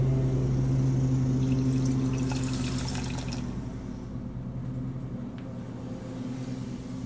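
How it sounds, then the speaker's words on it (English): Half a cup of water pours into a pot for making marbled glass candy, a splashy trickle over a steady low electrical hum that thins out midway and leaves the hum alone. "now we're gonna go ahead and put in our 1/2 cup of water."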